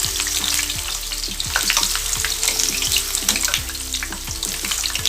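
Guava leaves fry in hot ration palm oil, crackling and spitting loudly and continuously, with a rapid popping texture throughout.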